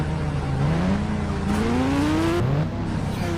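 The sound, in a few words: Kawasaki motorbike riding in video game Indian Bike Driving 3D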